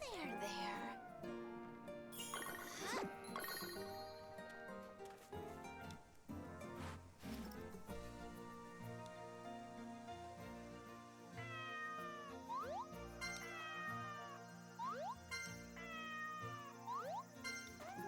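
Repeated cat meows in the Story of Seasons: Grand Bazaar video game, several rising and falling calls scattered over light chiming game music, with a person talking intermittently.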